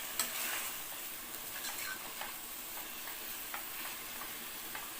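Mint and coriander leaves sauté in a pan, giving a steady soft sizzle with faint scattered ticks and light stirring scrapes, close and fairly quiet, with no talking.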